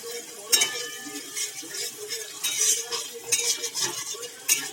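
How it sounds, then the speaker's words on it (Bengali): An egg fries in white oil and is scrambled with a spatula, producing soft sizzling broken by scraping stirs and a few sharp clinks of utensil on pan, moderately close. "এবার ডিমটা ভেজে নেবো"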